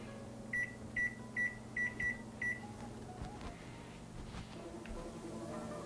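A kitchen oven timer gives six quick, evenly spaced high beeps, then stops, leaving a quiet steady hum of the room.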